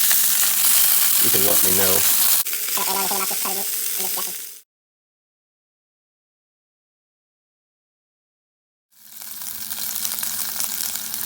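Beef short ribs sear in a hot pan for a noodle stir fry, a dense crackling sizzle under a voice, broken by a few seconds of silence before the sizzling resumes.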